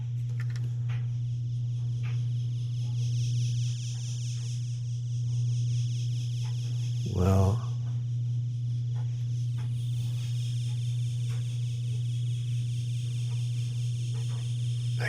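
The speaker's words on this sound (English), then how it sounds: "Next, light adjusted siren." Electronic siren tone from a Snap Circuits kit whose volume follows the light falling on a photoresistor, a steady buzzing hum that holds for the whole stretch with a brief louder burst midway.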